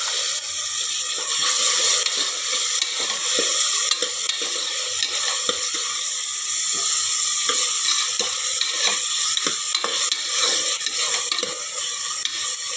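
Chopped tomatoes and onions cook in a pan for a village-style moong dal, giving a loud, constant sizzle with repeated stirring scrapes throughout, close up and without speech.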